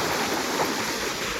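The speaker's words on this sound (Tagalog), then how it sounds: "Naglalaki ng alon ngayon, mga kabarski." Big ocean waves breaking on a beach in rough, rainy weather, a steady loud roar of surf and churning water with no pause and no voices.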